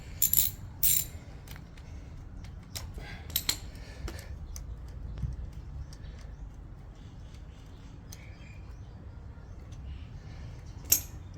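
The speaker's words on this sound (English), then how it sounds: "You're gonna use a 8mm socket with an extension." An 8mm socket ratchet with an extension loosens a battery bolt on a Triumph Bobber motorcycle, making faint, scattered clicking bursts over quiet background.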